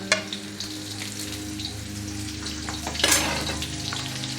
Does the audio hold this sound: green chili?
yes